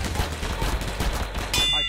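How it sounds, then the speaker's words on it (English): Shotgun in the Roblox game Item Asylum: a dense, rapid run of gunfire blasts fills the short clip, with game noise and a bright chime near the end. "Shotgun!"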